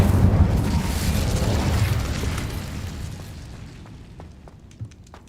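A fiery explosive spell from the Hogwarts Legacy video game bursts with a loud booming blast that rumbles and slowly fades, followed by faint scattered crackles.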